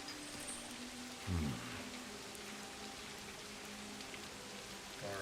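Steady soft rain patters throughout a night scene in the video game The Midnight Crimes, with a couple of brief low thumps breaking through the quiet downpour.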